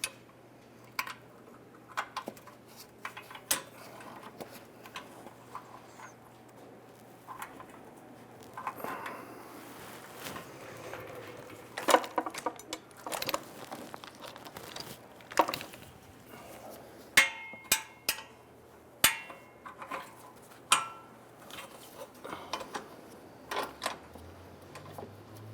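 Metallic ticks and clicks from a bolt being started on the radiator support of a 2005-2010 Chrysler 300, sharp taps scattered at irregular intervals over a steady low hum, growing busier toward the end.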